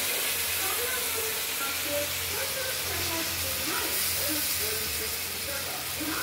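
Ground spice paste frying in a pan with potatoes, a steady soft hiss and sizzle running continuously, close and fairly quiet, with no talk over it.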